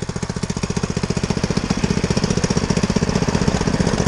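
A 212cc Predator engine on a motorized bike putters steadily while warming up. Its rapid, even chug is loud and close, with no voices.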